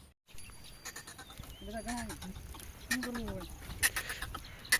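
Goats bleat a few times among a noisy farm background, with brief chirps and rustling, and some voices nearby.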